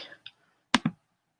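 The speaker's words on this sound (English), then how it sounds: "Apparently I'm typing too fast on my phone." Fast typing on a phone produces a couple of faint soft ticks, then two crisp, close taps in quick succession, with the rest of the moment silent.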